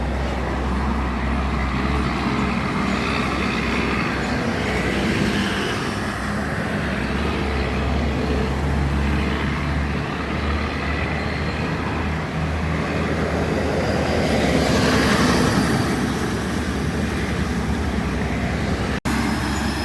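A steady, loud heavy engine drone from an N14 diesel truck engine rumbles throughout, deep and continuous like a large truck idling or running nearby, with no talking.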